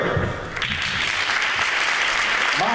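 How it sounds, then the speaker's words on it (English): A burst of audience applause at an executives' meeting, dense clapping from many hands that swells slightly after the first moment and carries on steadily, close and fairly loud. "A round of applause, please."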